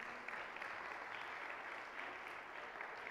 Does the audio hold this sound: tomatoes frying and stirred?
no